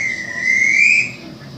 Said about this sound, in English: They'll blow their whistles when they see you.